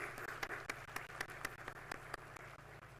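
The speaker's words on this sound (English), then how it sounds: "Please welcome them with a round of applause." Audience applause at an MBA first-year inauguration ceremony, faint and steady with scattered sharper claps, lasting about three seconds without voices.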